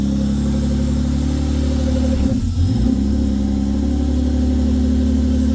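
An old Australian car's engine idles with a slight miss, running steadily and close by, with a brief dip in its note midway through and no talking.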